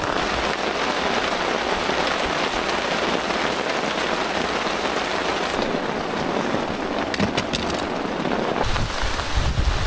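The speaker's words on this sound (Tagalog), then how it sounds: "Nagising ako sa lakas ng ulan." Heavy rain pounds steadily on a waterproof tent at a lake campsite in Chandava, a dense continuous patter with a wet splashing texture throughout.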